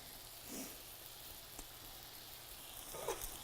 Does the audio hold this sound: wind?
no